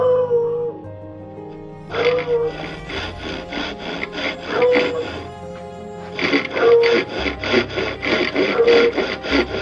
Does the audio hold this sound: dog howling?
yes